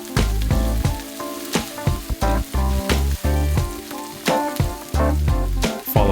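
Dried red chili peppers and chili powder hit hot oil for Kung Pao chicken, making a loud, close sizzle that swells in repeated bursts as the pan is stirred.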